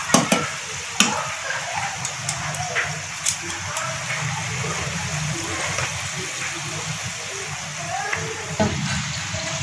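Chicken spring rolls shallow-frying in oil, a continuous bubbling sizzle with intermittent clicks and taps as the rolls are turned, close and moderately loud, with brief low background sounds.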